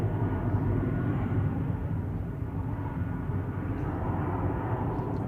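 Steady low roar of a Norwegian airliner departing Manchester Airport for Bergen, a continuous distant engine rumble with no clear peaks, heard without any voices.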